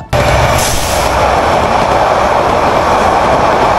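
A loud, steady rumble of a train at Cumilla railway station, with constant broadband roar and no voices.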